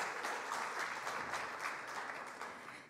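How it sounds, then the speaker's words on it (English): Audience applause at a film world premiere, steady dense clapping heard at a distance and fairly faint, tapering slightly at the end with no talk. "let's give it a round of applause."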